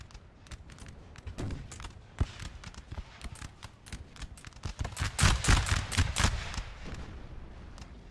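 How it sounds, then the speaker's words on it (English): Repeated musket volleys crackle across a Napoleonic Total War 3 battle, sharp irregular bursts and ragged rolling fire building to a dense, loud cluster of shots near the end. "Really good volleys."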